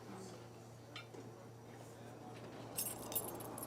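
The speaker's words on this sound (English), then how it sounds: "You want these keys right here" Keys jingle in Life is Strange, a brief metallic clinking that swells near the end over a low steady hum, with a voice speaking softly beforehand.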